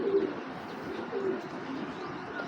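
Pigeons cooing close by, two soft low coos about a second apart over a quiet background murmur.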